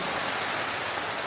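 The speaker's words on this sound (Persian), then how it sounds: "اوه بچه ها بارون شروع شد" Rain beginning as a storm approaches, heard from inside a large camping tent by a lake: a steady, faint wash of even noise with no distinct drops or gusts, continuous and without voices.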